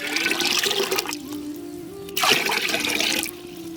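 Water poured from a vessel into a cooking pot while boiling green gram, a broad splashing pour in two bursts separated by a brief pause, close and fairly loud.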